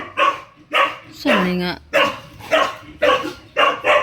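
A dog at a Philippine home barks repeatedly in sharp, loud bursts, about eight in quick rhythm with one rising whine-like yelp, while someone talks over it.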